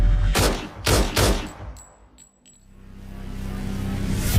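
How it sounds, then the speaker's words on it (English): Gunshots ring out on a quiet evening in a high-crime St. Louis neighborhood: three loud, sharp reports in quick succession, then a fading tail and a rising low rumble of background noise. "Suddenly, gunshots shatter the quiet evening."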